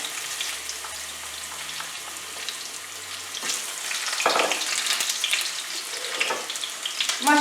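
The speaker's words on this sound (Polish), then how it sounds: "Czosnek trzeba przypiec, natomiast trzeba uważać, żeby nie, się nie przypalił." Garlic fries in a pan for shrimp with garlic, parsley and hot paprika, making a steady close sizzle that swells a little as it is stirred, with brief clinks and no talk.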